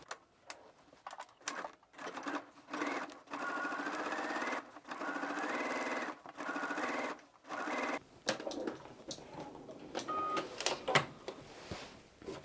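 A sewing machine runs a second row of stitching along a pocket in steady bursts of whirring, pausing briefly between runs, close and moderately loud with no talk.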